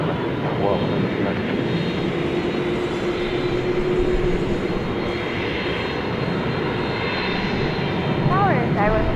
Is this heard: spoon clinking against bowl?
no